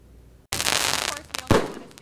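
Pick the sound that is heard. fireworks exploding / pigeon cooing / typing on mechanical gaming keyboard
fireworks exploding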